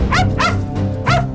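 A dog gives three sharp, loud barks in quick succession, each a short yelping burst with gaps between, close up and without speech.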